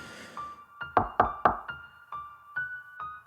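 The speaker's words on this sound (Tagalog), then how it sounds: "Muli ay may kumatok." A series of hard knocks on a door, about eight raps in an uneven rhythm, a tight cluster of three loud ones followed by softer spaced knocks, close and alone without talk.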